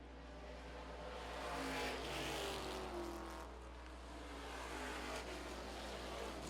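Street stock race cars circling the 5/8-mile oval at Lancaster Motorplex, a steady loud engine roar with the pack's drone rising and easing as the cars run side by side down the back straightaway.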